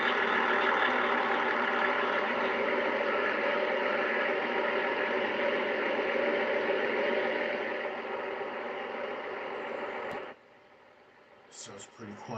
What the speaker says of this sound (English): So it's pretty quiet in the cabin, but you can still hear the engine.